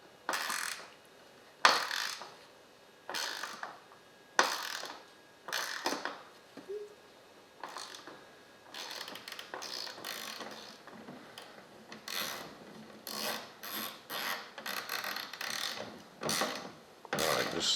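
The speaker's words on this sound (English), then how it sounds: "we're going to go ahead and start putting some bolts in this thing" On a Ford, bolts are fitted and ratcheted in with irregular clicking ratchet strokes, metallic rubs and creaks, close and moderately loud, in short bursts with gaps.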